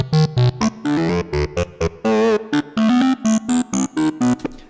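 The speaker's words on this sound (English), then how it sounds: "So that's what a phaser sounds like." A choppy, rhythmic sequence of short tonal bursts with a sweeping, swirling phaser effect moving through the sound, loud and close.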